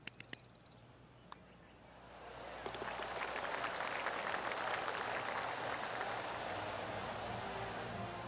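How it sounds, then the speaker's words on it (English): Spectators at the US Open at Oakmont give a polite round of clapping after a fine approach shot on the third green, starting softly after a few isolated claps and swelling into steady, moderately distant applause. "That deserves a golf clap"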